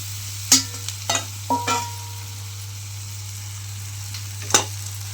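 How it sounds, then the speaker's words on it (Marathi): Torn chapati pieces frying in a pan stirred with a metal spatula, a handful of sharp scrapes and knocks separated by quiet gaps over a faint background hum. "गॅस थोडासा बारीक करून आपण आता हे हलवून घेऊ"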